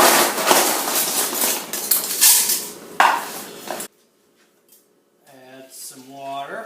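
Handfuls of Total cereal tipped into a blender jar make a loud, dry rattling clatter for several seconds. A short quiet follows, then a voice speaks.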